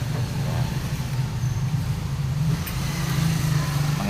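A noisy Yamaha YTX motorcycle engine with rough, worn gear teeth runs steadily up close, a continuous low droning rumble with no breaks.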